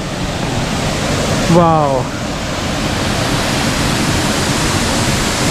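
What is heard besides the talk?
Jiha waterfall in Himachal Pradesh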